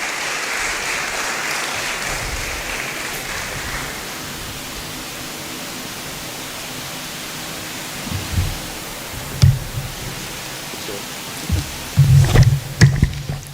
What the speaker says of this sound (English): Oh, let's clap for them.